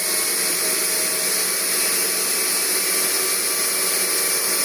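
Axial micro-compressor for a model turbine spinning steadily at about 6000 rpm, a constant loud whine and rushing hiss with no change in pitch and no talk.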